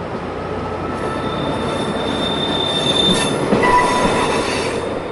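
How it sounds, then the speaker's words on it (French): An SNCF X 4500 railcar pulls in along a station platform, a steady rolling rumble with high wheel squeal rising and fading as it slows, close and continuous with no voices. "un autre 4500 est dégaré et vient se mettre à quai."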